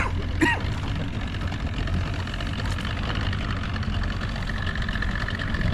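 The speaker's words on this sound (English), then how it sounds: "It's idling nice." A T850 Delta race boat's outboard motor idles steadily on the water with a low, even rumble and light knocking throughout, a brief faint squeal near the start.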